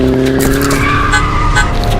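A car skids on a street, a sustained tire squeal running steadily for about two seconds over engine rumble, loud and close.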